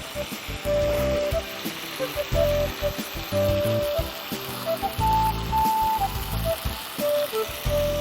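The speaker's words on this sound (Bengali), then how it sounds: "যতক্ষণ এটা ফ্রাই হচ্ছে" Pre-steamed green peas frying in oil in a kadai on a television cooking show, a loud close sizzle that swells and pulses in rhythmic bursts throughout, with faint whistling tones above it.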